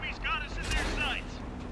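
Artillery fire in the TankBowl tank video game lands as a muffled, low blast under a voice talking, with a dull rumbling background throughout.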